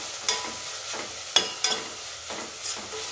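Spices frying in a pan for a sweet corn snack: a steady soft sizzle broken by several scraping stirs of a spatula, close and distinct, with no voices.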